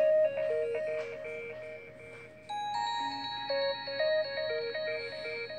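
Stargazer ringtone from a Samsung Galaxy S7, a clean electronic melody of sustained, stepping tones that rises into a higher layered chord partway through, moderately loud with no voices.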